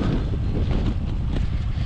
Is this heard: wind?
yes